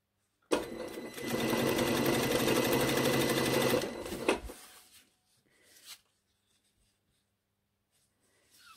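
Sewing machine stitching the seam of a V-neck top in pink thread: a steady, close, loud mechanical whir running for about four seconds, then stopping, followed by a few faint handling clicks.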